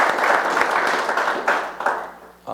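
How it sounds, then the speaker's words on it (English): An audience applauds the newly selected police chief at a State of the City address, a broad, steady clatter of many hands lasting a couple of seconds before tapering off, with a brief renewed burst at the end. "Let's give him a round of applause."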